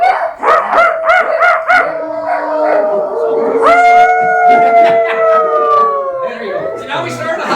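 A crowd of people imitates wolf howling in a large indoor gathering: overlapping voices rise into long, wavering howls, a few yips and bark-like calls mixed in, loud and close, sustained for several seconds.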